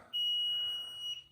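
A single loud, high-pitched electronic alarm beep from a newly installed HVAC system in a basement sounds for about a second, sharp and piercing, in an otherwise quiet space.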